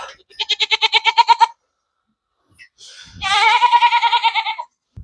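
Goats on a Canadian farm give two loud, close bursts of rapid pulsed bleating, the second longer and more wavering, with a short quiet gap between them.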